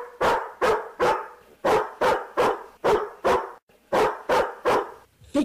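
Dog barking steadily in a rapid series of about a dozen loud, evenly spaced barks, close by, with no talking over them.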